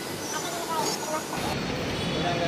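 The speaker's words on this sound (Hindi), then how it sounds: "ये रहा मेट्रो" A metro train runs at Swami Vivekananda metro station in Bangalore, a steady broad rumble and hiss of the moving carriages filling the platform with a continuous wash of noise while a person talks over it.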